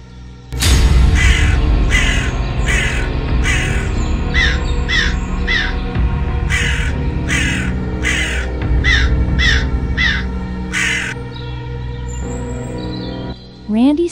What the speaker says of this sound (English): The sound of crows grew louder, surrounding his tent.